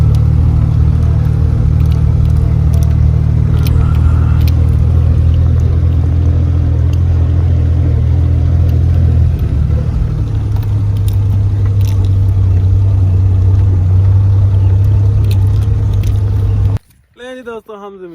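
A vehicle engine drones steadily and loudly from inside while driving slowly over a rough dirt track to village farm fields, with a low rumbling hum that shifts pitch midway and then cuts out near the end.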